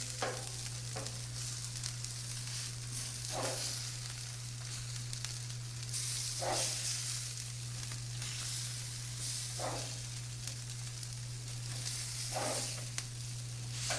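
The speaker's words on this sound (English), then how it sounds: "Now, I'm going to try to flip the burgers and we'll see how they come out." Homemade burgers sizzle steadily on a grill mat over a constant hum, with a few soft scrape-like bursts at regular intervals as the patties are turned.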